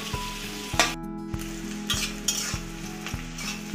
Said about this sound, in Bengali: সব কিছু একটু ভালো করে ভেজে নেব